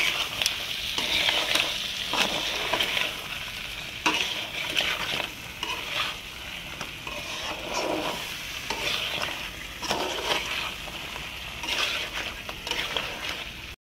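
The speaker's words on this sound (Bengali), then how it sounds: "কাঁকড়া দিয়ে মশলার সাথে খুব সুন্দর করে মিশিয়ে নেব" Crab cooking with spices in a pan, a continuous loud sizzle and fry with irregular stirring scrapes and occasional utensil knocks, close up and without speech.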